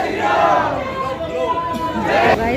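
Dense crowd noise inside a busy Hindu temple during darshan, with a continuous babble of many voices and some louder calls rising over it throughout.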